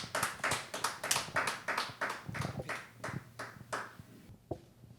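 A church congregation at a Friday praise gathering claps in a short burst of irregular handclaps over roughly four seconds, fading out, with a single sharp tap near the end.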